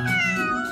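A cat gives one short, clear, close meow with a tonal, slightly falling whine, heard alone for under a second.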